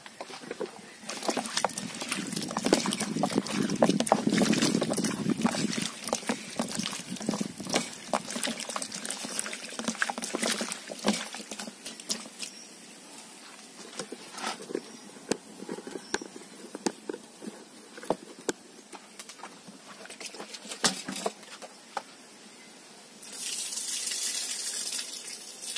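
Papaya pieces washed under running water in a kitchen, a steady splashing and trickling stream with clattering and rattling throughout, then a brief hiss of water near the end.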